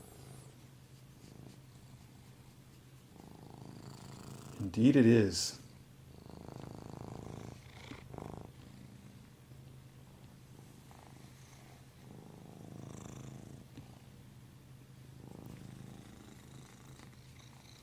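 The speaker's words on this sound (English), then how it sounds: "she's right up here rubbing on the camera and purring now" A cat purrs right against the camera, a soft, low, steady rumble that runs under the whole stretch, with one brief loud bump of rubbing and a few quiet spoken words.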